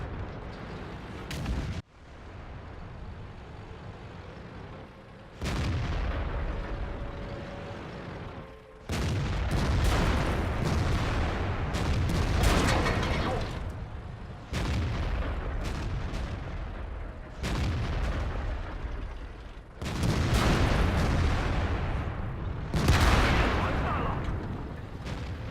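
Tank cannon fire in the World of Tanks game, heavy booming shots repeating at intervals of a few seconds amid continuous battle rumble, loud and close, with no talking.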